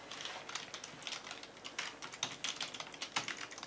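Quiet, steady typing on a computer keyboard, a rapid patter of soft clicks continuing for a few seconds with no voices.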